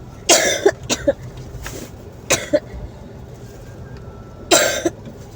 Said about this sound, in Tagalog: medyo inuubo pa yung pasero natin mga kabayan